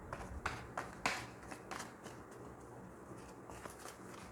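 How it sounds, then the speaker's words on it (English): Tarot cards being shuffled by hand in quick, rhythmic riffles and soft slaps, a few crisp flutters close up over a quiet room, with no voice over them. "I'll quickly shuffle the cards for you."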